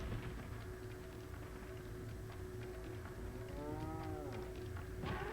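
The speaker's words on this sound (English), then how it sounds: "now you moo, you stupid cow" A cow moos in the video game Resident Evil 4 Separate Ways, one drawn-out low call near the end, faint beneath steady game ambience and music.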